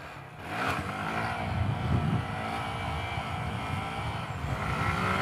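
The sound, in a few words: Honda Grom motorcycle accelerating in first gear for a wheelie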